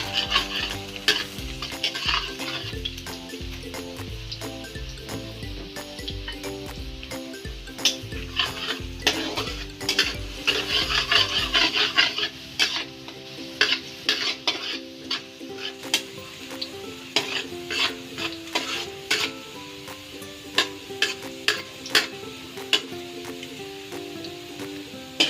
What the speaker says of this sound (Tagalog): saute the garlic until it's golden brown